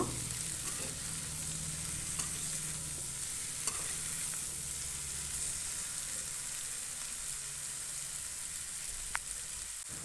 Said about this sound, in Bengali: এবার আমি মূলা আর কচুটাকে দিয়ে ভালোভাবে একটু নেড়ে নেব